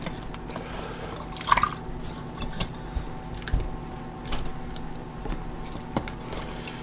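Ham hocks lowered back into a pot of homemade baked beans, soft wet plops and drips with faint clinks in a quiet kitchen, no voices.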